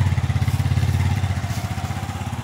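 A motorcycle engine runs close by with a loud, steady low putter, its rapid regular pulses continuing without pause and no talk over it.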